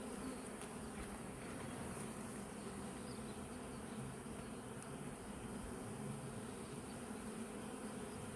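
Honeybees swarm around their hive, a dense, steady buzzing that fills the space evenly and close by, growing agitated with no pause or voice over it.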